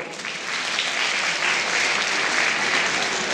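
An audience claps loudly and steadily at an event, a dense crowd applause that builds slightly after the first half second and then holds at full strength throughout, with no voices.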